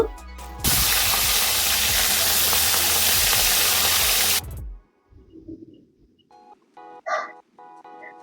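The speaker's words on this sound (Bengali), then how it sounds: "তেলটা গরম হয়ে আসলে এপিট ওপিট করে মাছগুলোকে ভেজে নেব" Pomfret fish hits hot oil with a loud, hissing burst that roars steadily for about four seconds. The hiss then cuts off into quiet, where a few faint, brief sounds follow.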